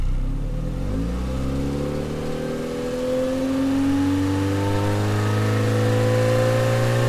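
A car engine revs up steadily, its pitch climbing and then holding at a loud, sustained growl.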